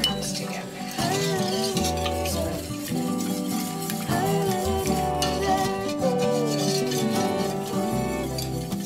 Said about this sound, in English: Stir this together.